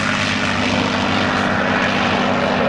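A P-51 Mustang propeller aircraft drones past in a loud, continuous roar, the engine noise steady and close throughout with no talk over it.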